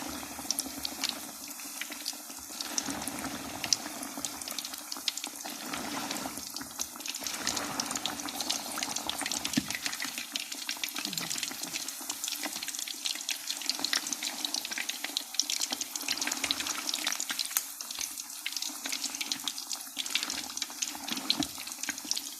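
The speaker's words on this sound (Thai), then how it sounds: "เราใช้ช้อนตักลงไปตักใส่ลงไปเลยนะ แล้วเราก็ใช้บี้เอา ไปบี้เอาในกระทะเลยนะคะ ให้มันแบนๆนะคะ" Spoonfuls of batter pressed flat in a hot frying pan sizzle with a steady, crackling hiss that runs continuously at close range, with no voices over it.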